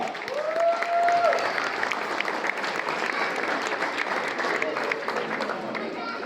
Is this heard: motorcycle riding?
no